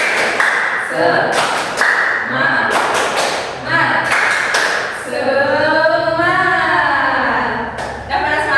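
A classroom group in an Indonesian microteaching lesson performs the rhythmic 'tepuk semangat' clap, with repeated bursts of sharp, close claps in a steady pattern, alternating with the group chanting in unison.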